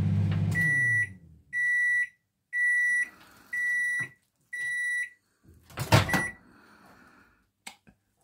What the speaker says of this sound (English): So I shall heat it up in the microwave.